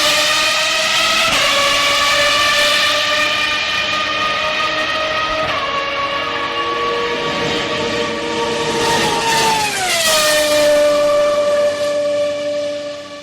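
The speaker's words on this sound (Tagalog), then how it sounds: "Because V10 engine, in terms of the sound, that's the best sounding F1 engine." A V10 Formula 1 car passes at speed, its engine a loud, continuous high-pitched scream that rises through gear changes and then drops in pitch as the car goes by, with no talk over it.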